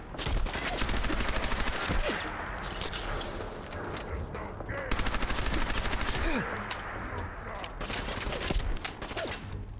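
Rapid automatic gunfire in the video game Fallout 4, rattling off in long sustained bursts for nearly ten seconds as ammo is spent, with short gaps between volleys and faint background sounds.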